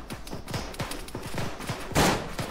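Rapid gunfire in the ArmA 3 military shooter, a quick run of sharp close shots in uneven bursts, with one heavier report near the end.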